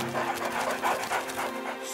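A cartoon dog pants in quick, steady breaths close up, the rhythmic huffing running on without talk for the whole stretch.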